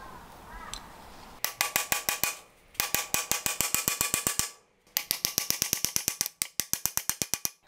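A hand ratchet clicks rapidly in four close, loud bursts with short pauses between them during work on the dowels and backing plate of a Nissan YD25 Navara vacuum pump.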